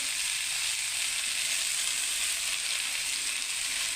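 Bottle gourd and prawns fry in a pan with turmeric, a steady bright hiss of sizzling oil running evenly and close throughout.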